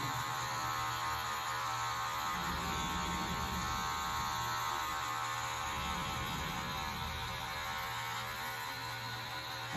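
An electric hair clipper buzzes steadily and continuously while cutting a high fade, a close, constant motor hum with slight changes in texture as the blades move through the hair.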